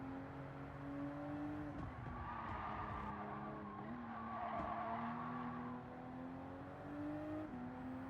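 Tires locking up and skidding under braking in Gran Turismo 7 or Forza Motorsport, a steady race-car engine drone with a squealing tire tone sustained over about eight seconds, no talk.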